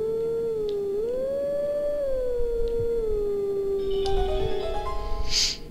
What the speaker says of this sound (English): let's just go ahead and howl the same song.